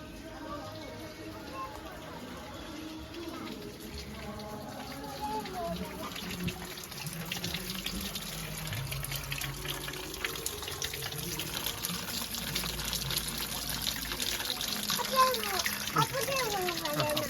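Water runs steadily from a tap through the whole stretch, a continuous splashing wash under people talking and laughing nearby, growing slightly louder toward the end.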